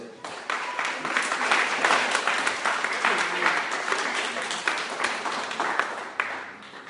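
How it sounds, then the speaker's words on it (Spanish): A church congregation applauds loudly and steadily for about seven seconds, dense clapping from many hands with some voices mixed in, fading slightly at the end. "Den un aplauso a Dios"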